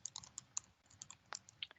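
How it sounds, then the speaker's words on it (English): Computer keyboard typing: a quick, irregular run of light, crisp key clicks close by, with brief pauses between bursts. "As Maya is typing those"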